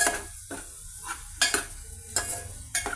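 Tomatoes fry down into a paste over a low flame with turmeric and salt, a soft sizzle under a few sharp stirring scrapes of a utensil against the pan, close and intermittent, no talking.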